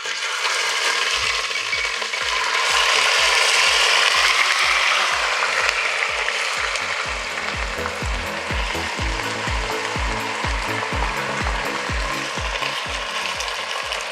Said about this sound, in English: I like to start with very hot oil, and then I'm going to add my onions